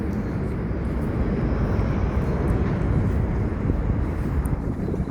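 Jet airplanes passing overhead near Suvarnabhumi Airport in Bangkok, heard as a steady, loud, broadband rumble that stays constant throughout, mixed with some wind buffeting on the microphone.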